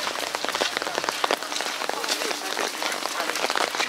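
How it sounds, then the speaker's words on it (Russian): Heavy rain pours steadily onto surfaces outdoors during a downpour in Sudak, Crimea, a dense continuous patter with no break and no talking. "А видите, дождь всем все испортил."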